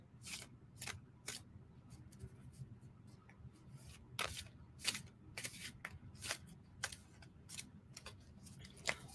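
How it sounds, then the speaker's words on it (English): A tarot deck shuffled by hand, a series of quick riffling bursts and soft card slaps in an irregular rhythm, close and fairly quiet against a low hum, with a faint voice in the background. "Shuffle, shuffle, shuffle. I know, it's a glorious deck,"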